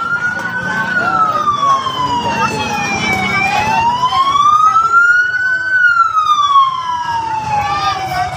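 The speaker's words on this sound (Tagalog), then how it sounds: "O, bumbero. At meron po yata sunog." A loud wailing fire truck siren, responding to a fire, rising and falling in slow sweeps, close by, with traffic rumble underneath and faint voices in the background.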